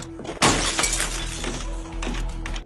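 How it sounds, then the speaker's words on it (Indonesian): A glass window pane is smashed to open a locked front door: a loud, sudden shattering crash with a bright, spreading burst of breaking glass, followed by a second smaller burst of shards near the end. No one speaks. "ia harus memecahkan kaca jendela untuk membuka pintu depan"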